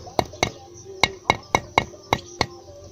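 A small hammer taps eight times in an uneven rhythm, levelling a block on a foundation wall to a string line, each strike a sharp, ringing click close up.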